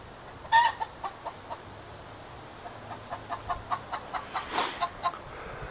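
Chickens in a coop with a teepee-shaped top made of semi-transparent greenhouse material, clucking in a steady series of short, evenly spaced calls, with one louder squawk near the start and another burst near the end.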